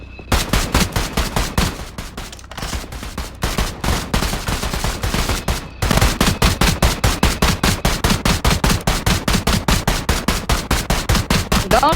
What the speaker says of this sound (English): Don't shoot at me, cause I really could have killed.